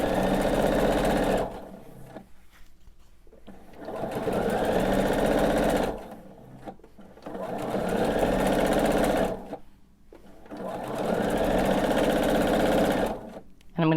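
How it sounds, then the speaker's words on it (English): A sewing machine stitching binding onto a quilt runs in loud, steady bursts of a few seconds each, stopping and restarting several times with short quiet gaps between runs. "I'm just going to continue sewing my binding on"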